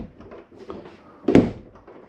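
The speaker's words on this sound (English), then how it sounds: "Snap that door open to make sure that vent's closed." A 2023 Catalina Summit 231MKS camper trailer door snaps shut with one solid, close thunk, preceded by a few light knocks and rattles.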